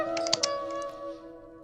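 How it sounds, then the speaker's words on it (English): Quick typing on a computer keyboard, a short burst of several clicky keystrokes over a steady electronic hum that fades out, with no talking. "He's typing."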